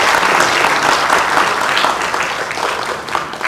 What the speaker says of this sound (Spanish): Un aplauso para Josué Rafael Pinoto Amador.